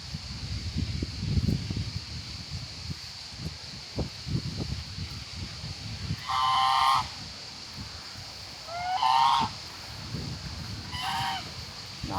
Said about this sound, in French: Là, il y a les oies qui débarquent.